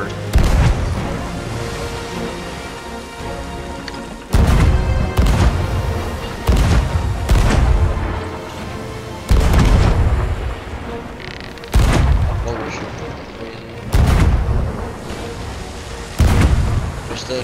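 Cannon fire in a naval galleon battle video game: a series of about seven heavy booming shots spaced a couple of seconds apart, each a loud blast that rumbles and decays, with players talking between shots.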